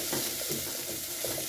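Onions fry in a pan for a chicken stew, a dense steady sizzle with soft stirring scrapes, close and moderately loud, with no voices.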